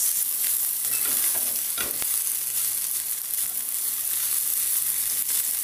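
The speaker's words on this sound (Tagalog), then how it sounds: "Ang masarap na fried rice." Fried rice with dried anchovies and eggs, no meat, stir-fried in a pan: a steady close sizzle with scraping stirring strokes throughout, with no talking.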